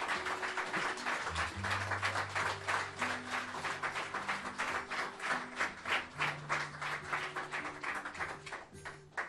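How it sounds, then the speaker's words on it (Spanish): A congregation applauds during a Spanish-language worship service in church, with dense steady clapping throughout, while sustained musical tones, likely keyboard or organ, play underneath. "Dale un aplauso al Señor."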